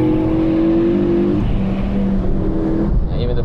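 Ford Focus RS500 rally car engine droning loud and close at steady revs, a sustained harmonic whine that shifts pitch midway and rises again near the end.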